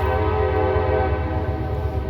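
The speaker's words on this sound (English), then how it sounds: "you got the trains going out there" A steady, loud rumble of a passing train with a sustained tonal drone layered over the low roar, continuous throughout.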